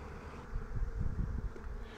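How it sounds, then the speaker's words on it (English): Honeybees buzzing in and around a hive feeder, a steady low droning hum that holds close and fairly loud, swelling slightly in the middle, with no voices. "you can see the bees come up in there now"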